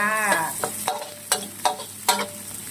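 Chopped Chinese garlic frying in oil in a pan: a crackling sizzle with four or five distinct spatula scrapes at irregular intervals, close up, after a brief tonal sound at the start.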